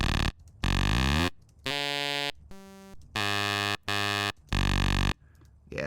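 A looped sample in Ableton Live's Simpler repeats in loud, blocky buzzing bursts with short gaps between them, the pitch shifting from one repeat to the next, with no talking.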